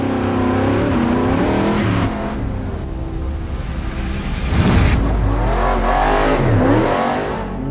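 A truck drives up and over a gradual dirt jump, its engine revving loudly and steadily with a surge and a thump partway through, continuous and close.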